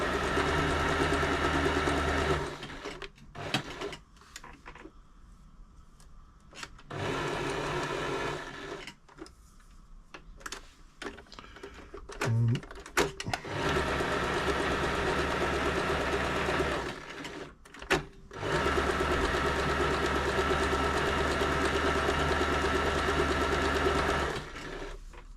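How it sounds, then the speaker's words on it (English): An Elna 3007 sewing machine running stretch stitches in several bursts of steady mechanical whirring and rattling, separated by short pauses with faint handling noises, close and alone. "Just going to try some stretch stitches."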